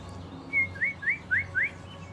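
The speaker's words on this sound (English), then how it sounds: "Listen to those birds." Five short rising bird chirps in quick succession, clear and fairly close, over a low steady background hum, heard ahead of an April storm.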